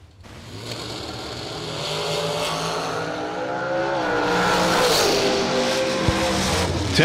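Drag racing cars launch and roar down the track at the SFG 350 in Cedar Falls, a loud sustained engine howl rising as they accelerate away, with faint tire noise.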